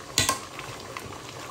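Soft bubbling and simmering of water boiling in a pot for cooking eggs, with a couple of brief clinks near the start, steady and close.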